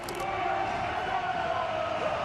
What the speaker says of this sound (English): Feisty crowd.